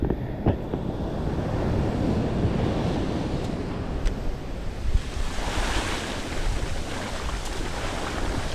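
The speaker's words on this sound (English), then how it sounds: "Tide's coming back in." Ocean surf rolling steadily onto a beach as the tide comes back in, a continuous close wash of breaking waves with wind buffeting the microphone throughout.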